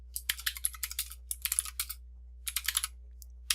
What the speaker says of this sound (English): So let's go ahead and type in a message.